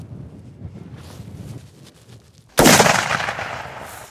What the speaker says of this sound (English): Shoot him right behind the shoulder.